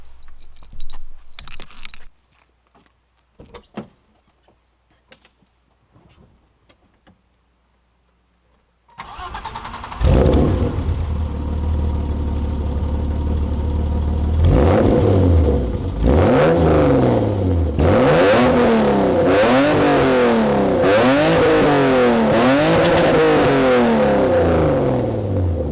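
A BMW E30 starts after some faint handling noises and a stretch of quiet, then idles and revs repeatedly, the engine note rising and falling in several loud, close blips.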